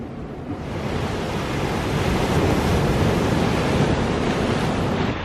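Ocean waves wash in with the incoming tide along a shore with tide pools, a steady, loud roar of surf mixed with wind buffeting the microphone.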